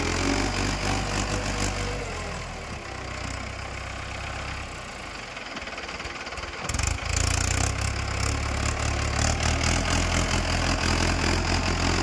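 A farm vehicle engine runs steadily while reversing with a homemade spraying rig attached, a loud continuous mid-pitched drone that dips briefly midway before picking back up, with no talk.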